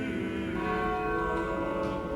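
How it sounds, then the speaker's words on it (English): Restored original church bells ringing from the bell tower of the Shrine of Our Lady of Pompeii in Chicago, a continuous rich metallic peal with long sustained overtones, steady and fairly loud, no voices. "The original bells that years ago rang out for weddings and funerals ring out again."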